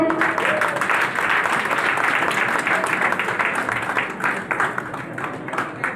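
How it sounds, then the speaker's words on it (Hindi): A workshop audience claps loudly and continuously, a thick wash of hand claps that eases slightly toward the end. "जोरदार तालियां बजाइए"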